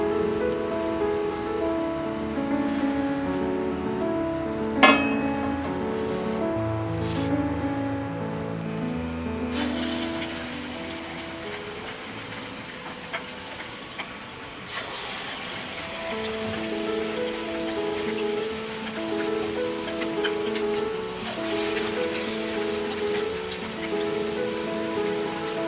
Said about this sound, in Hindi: हम बाकी सारे पुनुगुलु भी इसी तरह फ्राई कर लेंगे।